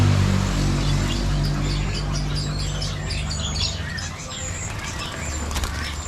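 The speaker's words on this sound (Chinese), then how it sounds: "这种鸟叫声也很好听啊。" Caged birds at a roadside bird shop in East Java, Indonesia, giving scattered chirps and squawks over a constant low rumble of traffic.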